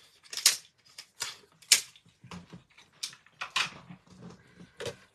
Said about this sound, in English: you just send them through your die cutting machine